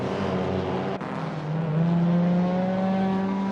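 Race cars in an Assetto Corsa British Saloon Car Championship race, including a Ford Mustang, climbing Clay Hill toward Druids: close engine drone with a brief dip, then a rising, sustained rev as the cars accelerate up the hill.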